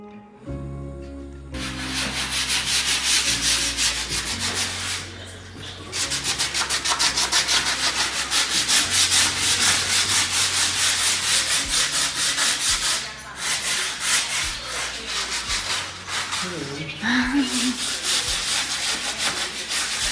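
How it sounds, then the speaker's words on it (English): Steady, continuous rasping of sandpaper scraping peeling paint off metal bars, loud and close, with brief pauses and rhythmic back-and-forth strokes throughout. "You just sand them right where they are"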